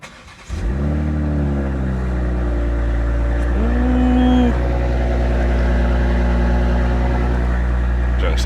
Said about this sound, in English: Alright, let's start her up.